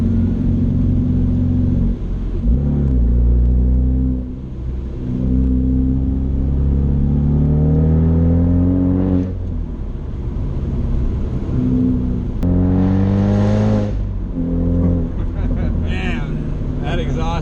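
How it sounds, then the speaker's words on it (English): A 2019 Ford Mustang GT 5.0 PP2 V8 engine and exhaust rumble loudly from inside the car while driving on a winding mountain road, rising and falling through several revving pulls and gear changes, with people talking over it. "Man, that exhaust is so addicting."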